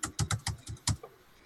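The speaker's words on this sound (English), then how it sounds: "as I'm typing in the last flavor" A computer keyboard is typed on in a quick, close burst of about half a dozen crisp keystrokes that stop within a second.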